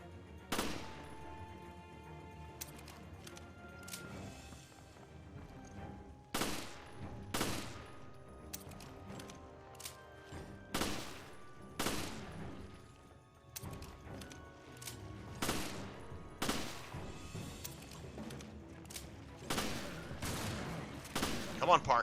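Repeated gunshots ring out in Resident Evil Revelations, sharp loud cracks spaced a second or two apart, with occasional quicker pairs over a low game ambience and some talk.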